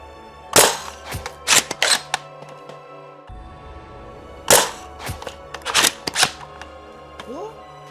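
A Nerf Wrenfield bolt-action sniper rifle fires several sharp, close shots, each followed by clacking bolt-cycling sounds, spread over a few seconds in an irregular rhythm.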